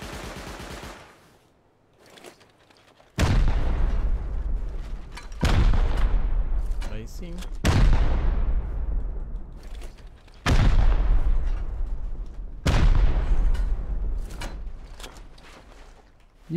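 Rockets fired in the survival game Rust, a series of loud launches each followed by a heavy explosion whose rumble decays slowly, about six blasts spread over the stretch with brief quiet gaps.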